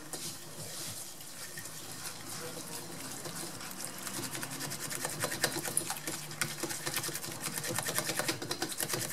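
Tiramisu-style cream for a blackberry tart being mixed, likely with an electric whisk, gives a steady whirring drone with a soft liquid swish that grows slightly louder over nine seconds; no voice is heard.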